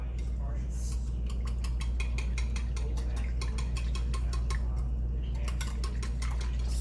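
A utensil stirs dill into a sauce in a bowl, a fast, regular run of scraping clicks against the bowl over a steady low hum.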